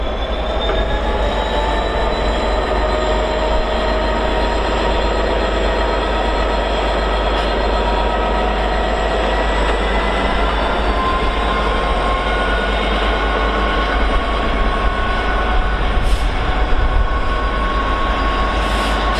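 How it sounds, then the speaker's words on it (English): Class 66 diesel locomotive 66050 hauls a northbound freight from Felixstowe past on the East Coast Main Line, a loud steady rumble of engine and rolling wagons with faint wheel squeal and a low constant drone. "66050 finally heads north towards East Midlands Gateway from Felixstowe."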